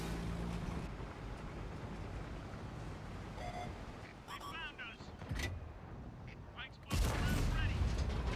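Tank cannon shots ring out in a tank battle video game, with a few sharp blasts and a heavy booming report near the end over a rumbling engine bed, while a player talks.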